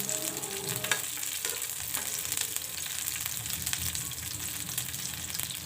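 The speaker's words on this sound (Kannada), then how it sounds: "ಚೆನ್ನಾಗಿ ಹುರ್ಕೊಳ್ಳಿ ಫ್ರೆಂಡ್ಸ್" Ingredients for mandakki huggi, a village-style puffed rice dish, sizzle and crackle steadily in a hot pan, a dense continuous frying sound with occasional stirring scrapes.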